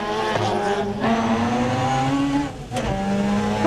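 Rally car with an unusual Mazda engine racing on a mountain road in the Kerry Mountains during the Rally of the Lakes, loud and close, with sustained engine roar, shifting revs and brief dips as it passes.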